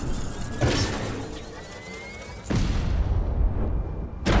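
Drone explosions in the game Rochard, a few heavy booming bursts with rumbling tails over a constant background, one near the start, a loud one midway and another at the end.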